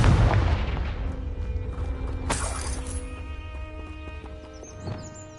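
A Confringo explosive spell in the video game Hogwarts Legacy bursts with a sharp blast, followed by another crackling impact over sustained tonal game music and ambience.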